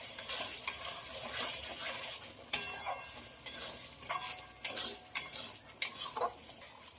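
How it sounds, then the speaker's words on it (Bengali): Pea ghugni masala with salt and turmeric is stirred in a frying pan, a soft sizzle broken by repeated sharp metal scrapes and clinks of a spoon against the pan, with no speech. "নুন হলুদ দিয়ে খুব ভালো করে আবারও খুব ভালো করে নাড়বো"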